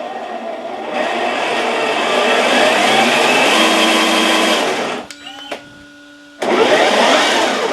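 A 6x6 RC truck's electric motor whirs loudly and steadily while the truck is held up off a table, the pitch rising briefly before it cuts out, chirps and revs in short bursts, then surges back to full speed.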